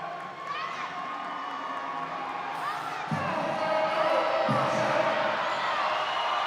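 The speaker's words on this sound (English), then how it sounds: "Crowd getting behind Walcott." Crowd at a women's American Oak log press event at the 2023 Arnold Strongman Classic cheers and whoops continuously in a large arena, the roar swelling louder midway with shouts rising above it.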